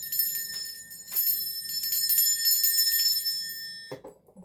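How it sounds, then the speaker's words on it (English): A small bell rung to cleanse a space, several bright metallic strikes with long shimmering overtones ringing out one after another, close and clear, ending in a softer clatter. "I'm going to be ringing a bell. This is just to cleanse the space around us."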